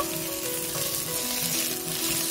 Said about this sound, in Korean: 달궈진 후라이팬에 건져놓은 감자를 넣어줍니다. 감자를 5분 익히면서 중간중간에 섞고